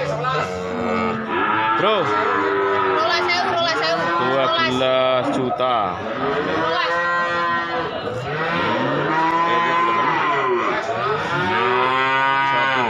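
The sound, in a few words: cattle calves mooing at Pasar Paing livestock market, Pati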